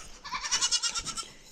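A goat on a farm pen bleats in a series of wavering, pulsing cries, fairly close and clear, with no talk over it.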